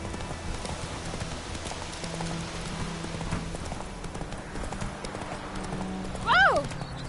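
Hooves of the horse Roach in The Witcher 3 clip-clop steadily across the ground under light rain. Someone speaks to the horse, and a sharp whinny rises near the end.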